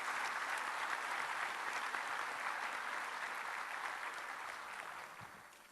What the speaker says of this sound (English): a big round of applause for all those years of hard work